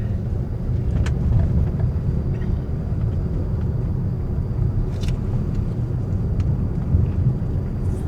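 Steady low rumble of a car driving along a road on the outskirts of Hongsa town in Xayaboury, Laos, continuous and fairly loud throughout with a few faint high clicks above it.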